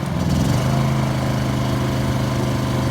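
Honda EU2200 portable inverter generator running on three-year-old 100LL avgas, a steady, loud, close engine drone with a slightly rough, pulsing hum and no talk.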